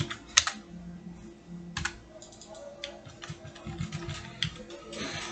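Computer keyboard typing in quick irregular bursts of clicks, including short shortcut key presses while copying and pasting, heard close and moderately loud with no voices.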